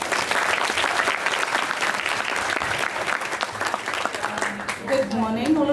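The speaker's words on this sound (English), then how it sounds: "a warm round of applause" A full round of applause from students at an 11th grade school assembly, dense steady clapping filling the room, then tapering as a voice begins speaking near the end.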